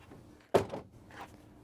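A folding rear step mounted inside a cargo van's rear door swings down, giving one solid thunk followed by a short rattle and a fainter knock.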